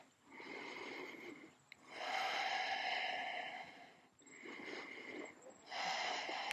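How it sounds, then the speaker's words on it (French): Long, breathy exhalations during a relaxing evening yoga session, two extended airy breaths separated by a brief pause, close and steady with no talking. "On expire."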